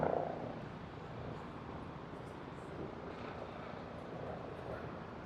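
A helicopter drones overhead above Manhattan, a steady broad rumble that holds level throughout at moderate distance, with no talk.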